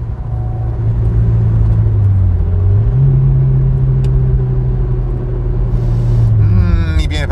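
A Ford Sierra Cosworth 4x4 engine rumbles steadily at close range, its pitch dipping and then rising as it revs, with a brief higher whine near the end.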